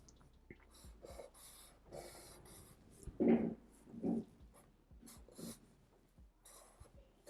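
A pencil sketches a My Hero Academia Deku figure on paper with quiet, intermittent scratchy strokes, faint and close, alongside a couple of soft breathy sounds.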